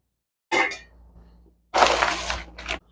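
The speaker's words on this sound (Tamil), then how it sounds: "ஆயில் கொஞ்சம் சூடாகிட்டு கடுகு உளுத்தம்பருப்பு போட்டுங்க. இது நல்லா பொரியட்டும். கடுகு நல்லா பொரியுது." Mustard seeds and urad dal hit hot oil for aval upma and burst into crackling sizzles: a short pop of spluttering, a quiet pause, then a longer, louder crackle that fades out.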